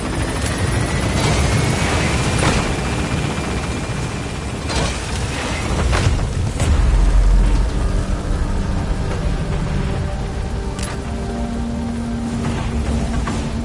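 A helicopter lifts off in the Metal Gear Solid V video game, a loud rumbling rotor and engine drone with thumps and mechanical noise, swelling midway as it gains altitude, no speech.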